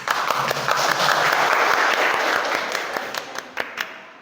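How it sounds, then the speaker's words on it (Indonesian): Students in a university classroom lesson clap together loudly, a dense burst of applause that thins out into a few scattered, sharper claps toward the end. "Tepuk tangannya, Nak."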